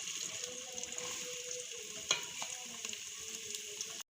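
Onions fry in a pan for keema matar aloo with a constant hissing sizzle, broken about midway by one sharp utensil knock and a few lighter stirring scrapes; no voices.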